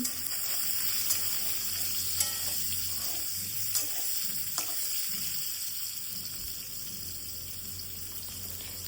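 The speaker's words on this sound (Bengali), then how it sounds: "এতে আমি কেটে রাখা পনিরগুলোকে দিয়ে দিচ্ছি। দিয়ে ভালো করে নেড়ে চেড়ে খুব বেশি না হালকাভাবে ভেজে নিচ্ছি।" Paneer cubes fry lightly in hot oil in a pan, giving a steady close sizzle with occasional stirring clinks and scrapes and no talk.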